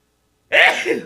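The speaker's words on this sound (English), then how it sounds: "And I have to sneeze." A single loud, close sneeze bursts out of silence, with a sharp onset and a brief trailing breathy release.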